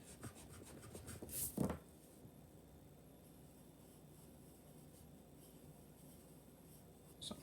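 A pencil or pen scratches softly on paper while drawing circles for a figure study, a faint steady rub under low room hiss, with one brief louder scrape near the start.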